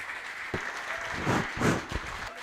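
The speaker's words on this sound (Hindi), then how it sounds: "जबरदस्त तालियों की गड़गड़ाहट से स्वागत करेंगे सत्यम गुप्ता सर का" Audience applause welcoming Satyam Gupta, founder chairman of a coaching institute, at an honour ceremony: a dense, sustained clatter of many hands clapping close by, swelling in waves.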